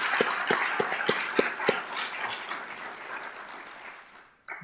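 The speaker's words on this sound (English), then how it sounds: "Let's give one more quick round of applause here." Steady crowd applause fills a police promotion ceremony, dense clapping with a few sharper individual claps standing out at the start, then fading away near the end.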